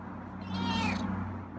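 Feral cat meowing once, clear and close, a short drawn-out mew over a low steady background hum.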